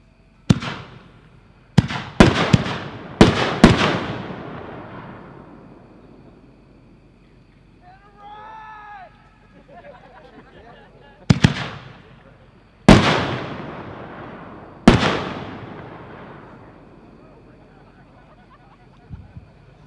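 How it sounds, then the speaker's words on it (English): Shells from a Tannerite Shell Kit firework go off as sharp, loud booms, several clustered in the first few seconds then three more spaced out later, each trailing into crackle and echo, with a whistle-like squeal between. "Number 8 is Tannerite Shell Kit by Tannerite,"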